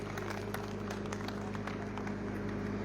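A gathered crowd applauding at an honoring ceremony in the village of Jadaula as a shawl is presented: faint, distant, continuous clapping over a steady low hum.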